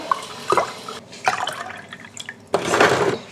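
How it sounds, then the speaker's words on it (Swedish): Water being poured out in a kitchen while making pink food, a few short splashing pours with drips between them and a louder final pour, close and with no talk. "Jag häller ut lite."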